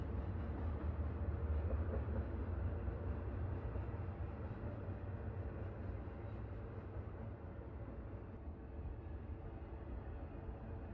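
A train rumbles along, a continuous low, heavy drone with faint rolling clatter that holds steady and fairly quiet throughout.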